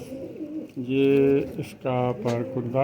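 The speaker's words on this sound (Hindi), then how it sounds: "प्योर देसी कबूतर है" Desi pigeons coo in soft, throaty bursts, close by, while someone speaks over and between the calls.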